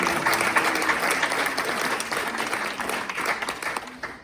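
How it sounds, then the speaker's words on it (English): A congregation at a Sunday church service applauds for several seconds. The clapping is steady, dense and mid-distance, with a faint murmur of voices underneath. "and we'll clap for Joni"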